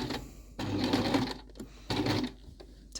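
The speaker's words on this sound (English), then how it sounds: "So keep sewing down to that last point." A sewing machine stitches fabric along the underarm gusset of a coat, running in two steady bursts with a short pause between them, close and fairly loud.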